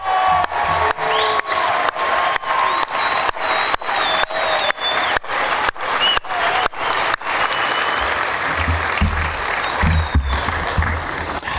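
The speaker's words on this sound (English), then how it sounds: "Please join me in a round of applause." A large crowd at an Army infantry graduation ceremony at Fort Benning claps for new graduates, with loud rhythmic unison clapping for several seconds that then breaks into sustained applause, with cheers and voices underneath.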